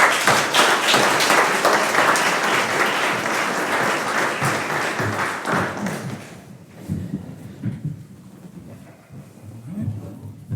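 A second round of audience applause at a school board of education meeting for a student, loud sustained clapping that thins out after about six seconds into scattered claps and room noise.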